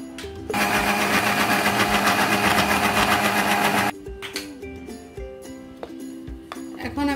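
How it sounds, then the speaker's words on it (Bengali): An electric blender whirring through cheesecake batter made with chhena, salt and oil, a loud steady motor drone for a few seconds that cuts off, followed by softer clinks and handling noises. "তেলগুলো দিয়ে আমি আবার ব্লেন্ড করে নিব।"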